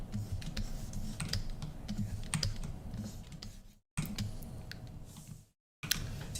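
Computer keyboard keys clatter in quick, light taps during a Blender 3D modeling session, close and soft, broken by two brief silent gaps.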